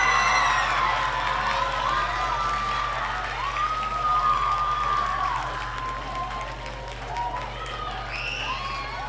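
An audience at an awards ceremony for a design contest applauds and cheers a junior division winner, with sustained clapping, some whoops and shouts, and voices chattering over the crowd noise throughout.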